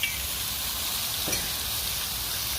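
Onions and bacon sizzle on a hot griddle during smash burger cooking, a steady close crackling hiss that runs unbroken with no talking.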